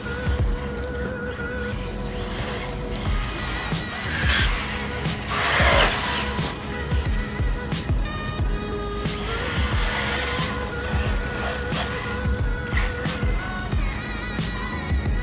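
A LOSI Tenacity T 4WD RC truggy runs flat out, its electric motor whining and rising and falling in pitch as it accelerates and passes, with tire scrabbling and gravelly crunches over a steady outdoor background.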